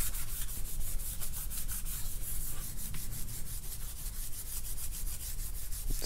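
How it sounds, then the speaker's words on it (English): Steady abrasive sanding of a chrome-plated custom 26-inch Forgiato wheel for a Box Chevy Caprice, dulling the surface before painting, a continuous close rubbing rasp with rhythmic strokes and no talking. "Just finish sanding."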